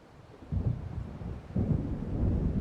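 Thunder from an approaching storm in the video game Alan Wake Remastered: deep rolling low rumbles in two swells, the second one louder and longer, with no voices over them.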